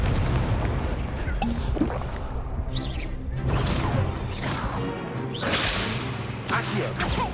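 Fire spell cast in a Hogwarts simulator game, several whooshing bursts and crackling flares rising out of dense game noise, with a voice calling out spells throughout.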